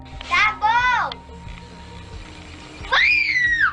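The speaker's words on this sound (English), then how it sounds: "The girl, scared out of her mind, screamed at the top of her lungs and threw the dolls away." A frightened girl screams at full voice in two long, loud, high-pitched bursts, one at the start and one near the end, with a quieter stretch between them.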